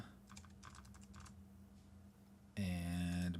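Quick bursts of keystrokes on a computer keyboard, close and fairly soft, clatter for about a second before a loud droning tone takes over.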